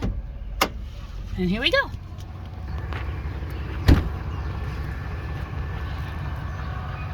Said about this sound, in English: Pop this hood,